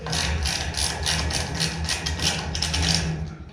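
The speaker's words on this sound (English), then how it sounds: "Now we're going to unbolt the tail lamp from the bracket. And of course, these little nuts are 10 millimeter" A ratchet wrench clicks rapidly and steadily up close while backing off painted-over 10 mm nuts holding a tail lamp to its bracket on an M416 trailer, with no talk over it.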